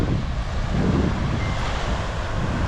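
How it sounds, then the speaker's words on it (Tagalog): Sea waves roll at Bukana beach under strong wind buffeting the microphone, a loud continuous wash of surf with no talk. "Ganda ng dagat oh."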